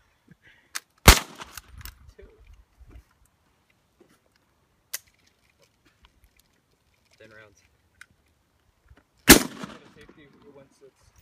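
Two loud, sharp Mosin rifle gunshots fired outdoors several seconds apart, each with a short rumbling tail, separated by quiet stretches of faint handling clicks and people talking.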